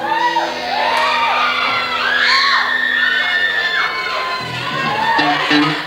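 A high school concert audience of teenagers screams, whoops and cheers loudly and continuously, a dense crowd roar with bright shrieks rising and falling throughout.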